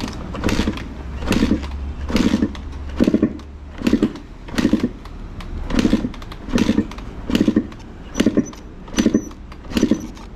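A Yamaha motorcycle, either a YZ 250 or a DT 175 Racing, with the choke off, is cranked again and again in a steady rhythm, about a dozen close, loud kick strokes that never catch.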